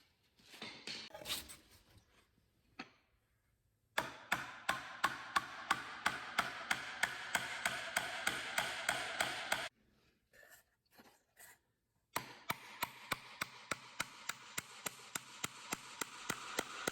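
Sharp, even hammer taps drive a nail into wood during a DIY tablet shelf build, coming in two quick runs of close, rhythmic blows separated by short pauses and a few scattered knocks.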